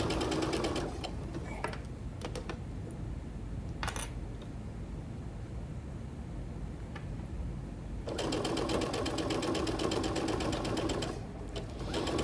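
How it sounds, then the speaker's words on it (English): Sewing machine stitching a half-inch seam down a jacket made from an upcycled quilt, running in bursts with a steady motor whir and rapid needle chatter, pausing in the middle before starting up again. "So you just sew a 1/2 inch seam allowance all the way down."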